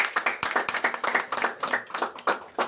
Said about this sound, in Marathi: टाळ्या वाजवून